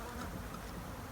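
Honey bees buzz around an open hive during a beekeeping session, a dense, continuous close-up hum of many wings with no voices.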